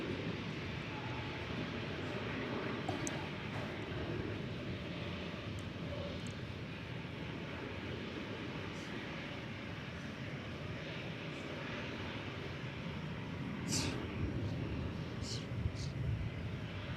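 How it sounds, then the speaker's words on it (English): An American Airlines Airbus A321 bound for Las Vegas passes at DFW Airport as a continuous, fairly distant jet roar. The roar holds steady throughout and swells slightly near the end. "American Flight 1890 is going to Las Vegas, an Airbus A321."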